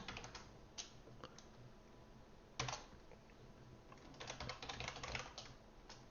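Rapid typing on an external computer keyboard, a steady stream of quiet close key clicks with a few louder strikes and a dense burst toward the end.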